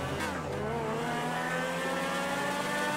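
Race cars in GTA 5 accelerating off the start of a street race, engines revving and rising in pitch with a steady, loud motor drone throughout and no talking.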